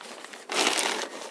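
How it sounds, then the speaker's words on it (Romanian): A plastic foil sheet is laid over beehive frames to keep warmth in, giving a quiet rustle followed by a louder crinkling swell about a second long, then fading back to soft rustling. "Punem și folia pentru a ține cald și"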